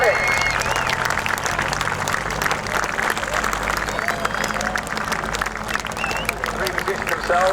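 A large crowd at the RAF Cosford Air Show claps steadily for a parachute display team, a broad wash of applause heard through a public-address voice that talks over it, with some wind rumble underneath.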